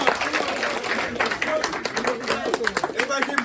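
Audience clapping at a community safety meeting in a conference room, a fairly dense burst of hand claps lasting a few seconds with voices talking over it.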